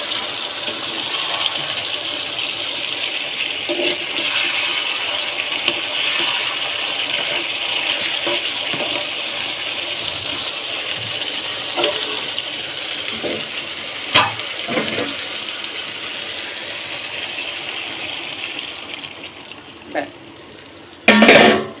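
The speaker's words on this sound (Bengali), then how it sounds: "ব্যাস এখন কিন্তু ঝোল দিয়েছি" Broth is poured into a cooking pan, a sustained watery gushing and splashing that runs on for many seconds with a few clatters and bumps near the end.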